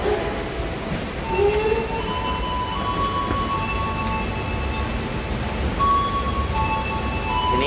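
Steady rumble of a Sancaka passenger train heard from inside a carriage en route from Yogyakarta to Surabaya, with faint wheel squeal and rail noise running continuously throughout.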